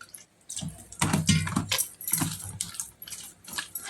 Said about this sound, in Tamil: இன்னும் கொஞ்சம் தண்ணி விடுறேன்